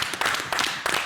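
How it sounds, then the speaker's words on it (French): A short burst of studio audience clapping on a television talk show set, a few quick close rounds of hand claps lasting about a second. "On l'applaudit."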